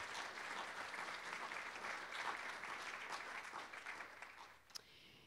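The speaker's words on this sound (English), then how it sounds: "So could we give them all a big round of applause" Audience applause at an academic conference at St. Mary's College, a dense sustained clapping from a crowd that tapers off near the end.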